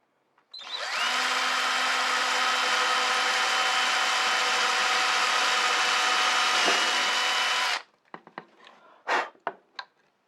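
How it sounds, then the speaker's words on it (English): A power drill bores a hole through a metal plate in one loud, steady, close whine lasting several seconds, then stops, followed by a few faint clicks and handling knocks. "Exactly the right drill bit for exactly the right hole."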